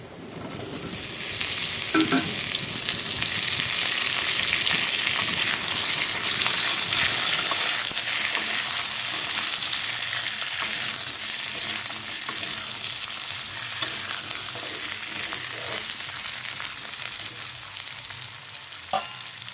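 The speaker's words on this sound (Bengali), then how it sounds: "এখন আলুগুলো ঢেলে দেব আলুগুলো ভেজে নেই" Potatoes fry in a hot wok with a steady, loud, dense sizzle, while occasional scraping stirs break through over nearly twenty seconds with no voices.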